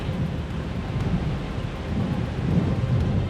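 Steady, close rain hissing across the whole moment, with a low rumbling undertone that swells slightly toward the end; no voices.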